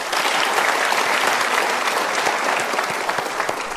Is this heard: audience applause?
yes